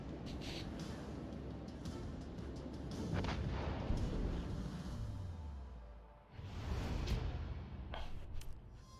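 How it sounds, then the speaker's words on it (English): Naval guns firing shells in the World of Warships Legends game, likely the battleship Jean Bart, making loud, dense rolling booms of continuous battle with a heavy salvo near the middle and another burst late on. "The small guns set fires, the big guns do damage."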